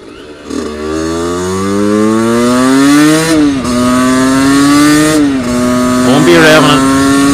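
An Aprilia RS 50 motorcycle engine revs up and down in several rising and falling sweeps, loud and close, with a buzzy two-stroke tone.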